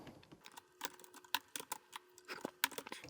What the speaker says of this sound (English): So just typing in all of the actual function keys that we're going to use